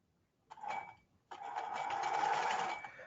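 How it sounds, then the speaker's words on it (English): A sewing machine stitches pleats into fabric, running in a short burst, pausing briefly, then whirring steadily for a longer stretch, close and clear with no talk. "Sew a longer distance,"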